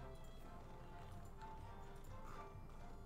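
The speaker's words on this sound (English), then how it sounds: "This guy is riding a horse." Hooves clip-clop steadily at a trot as a horse is ridden in the video game The Great Ace Attorney Chronicles, with a faint, continuous, even rhythm and no speech.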